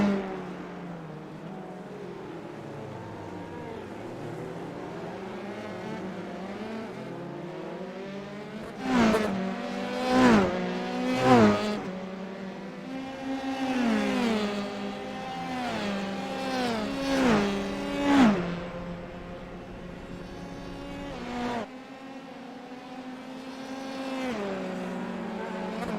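Formula 3 race cars roar around the Long Beach street circuit in a racing video game, engines whining through gear shifts as several cars pass close in quick succession, then fading to a lone droning car.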